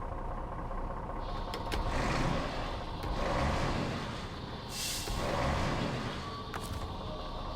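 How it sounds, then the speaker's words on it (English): A Caterpillar truck idles in the SnowRunner video game, a steady mid-volume engine rumble that swells and eases slightly, with a few brief hisses and clicks over it and no talking. "I like the idle sound of this truck."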